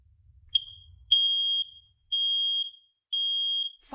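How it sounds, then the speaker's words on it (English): A Guide smoke and carbon monoxide detector under test gives a short chirp, then three long, piercing, evenly spaced alarm beeps, loud and close with nothing else heard. "We're going to start off the video by testing this guide smoke and CO detector."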